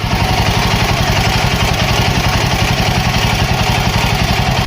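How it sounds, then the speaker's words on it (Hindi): A Royal Enfield Himalayan 452 motorcycle engine idles with a rough, uneven knocking rattle, loud and close, pulsing steadily throughout with no talking. "देख रहे हो बाइक में बड़ी वियर्ड सी साउंड आ रही थी"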